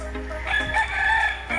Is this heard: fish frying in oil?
no